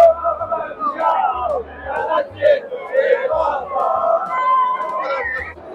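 A dense crowd fills a bar in Naples on Christmas Day at aperitif time, a continuous close babble of many overlapping voices with occasional louder shouts and low thumps underneath.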